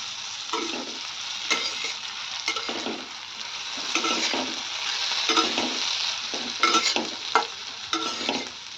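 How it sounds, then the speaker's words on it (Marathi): Bitter gourd stirred as it fries in a pan, with a steady sizzle throughout and repeated scraping strokes of the spatula at an irregular rhythm, close and moderately loud, no talking. "आपल्याला ते मधूनमधून हलवायचंही आहे म्हणजे आपलं कारलं खाली लागणार नाही"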